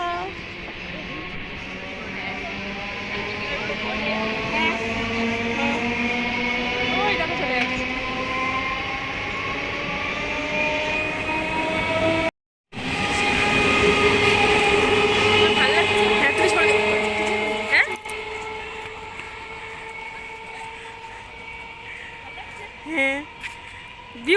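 A train pulls into a station in a long rumbling approach, with brake squeal and clattering wheels growing loud and close, briefly cut off, then easing; voices chat over it.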